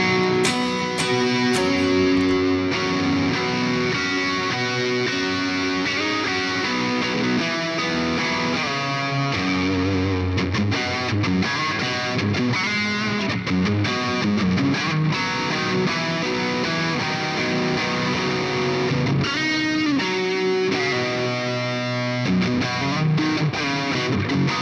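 Electric guitar through a Victory Kraken amp with a subtle vintage-style analog delay, played as loud, continuous distorted riffs and chords with faint echoing repeats trailing each phrase, no talking.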